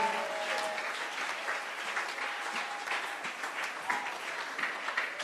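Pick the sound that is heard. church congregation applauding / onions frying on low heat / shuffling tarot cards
church congregation applauding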